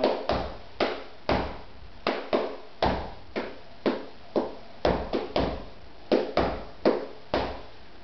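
Crisp flamenco palmas handclaps marking an alegrías compás, sharp claps in a clear repeating accented pattern with brief gaps between groups, close and dry with no voices.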